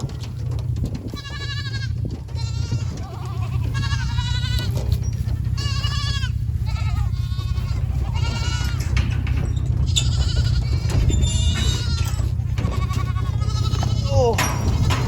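A flock of sheep bleats over and over, overlapping calls near and far above a steady low rumble, with people talking at times.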